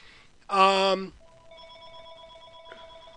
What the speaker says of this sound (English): Had to get a phone call.